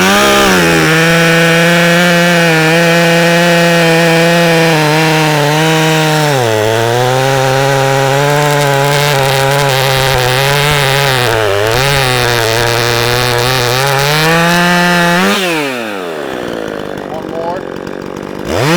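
Stihl chainsaws, including models such as the 500i, 362 and 291, rip through a log while milling lumber, their engines roaring loud and close in a long, steady cut with slight pitch dips under load before winding down.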